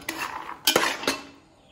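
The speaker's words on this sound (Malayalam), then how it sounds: "അതുകൊണ്ട് ലോ ഫ്ലെയിമിലിട്ട് ഇങ്ങനെ വറുത്തെടുക്കുക" Peanuts dry-roasting in a pan over a low flame rattle and scrape as a utensil moves them. Three distinct clattering strokes sound close by against a quiet background, with no speech.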